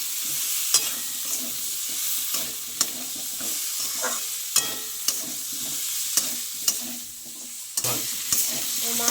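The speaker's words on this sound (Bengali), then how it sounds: "এবার ভেজে রাখা মাশরুম আর আলুগুলো একসাথে দিয়ে দেবো। দিয়ে আমি ভালো করে একটু নেড়ে চেড়ে কষিয়ে নেবো" Mushrooms and potatoes stir-fried in spice paste, with a steady close sizzle in the pan and regular sharp clinks of the spatula scraping and tossing at intervals of about a second, with no voices.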